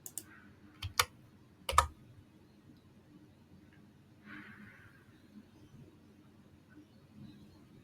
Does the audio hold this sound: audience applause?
no